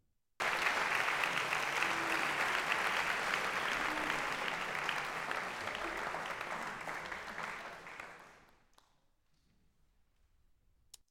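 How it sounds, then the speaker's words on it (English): Recorded concert applause, a long, dense burst of many hands clapping that starts suddenly, holds steady, then gradually thins and fades to near silence. "Now, this looks like a pretty long applause."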